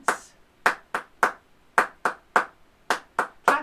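Ten sharp hand claps at an uneven pace, close and clear, with short gaps between them and no other sound, coming from a children's music lesson.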